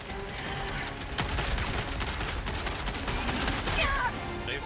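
Sentry gun firing at bugs in a video game, a steady stream of loud, fast automatic shots amid battle noise, with a sharp blast near the start.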